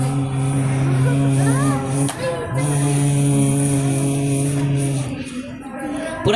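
A voice mimics flies buzzing around a roadside food stall, a close, steady droning hum that wavers in pitch and breaks briefly near the middle before continuing.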